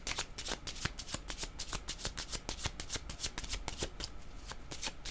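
Playing cards being shuffled for a card reading, a long run of quick riffling flutters and soft slaps repeating steadily at close range, fairly quiet, with no voice.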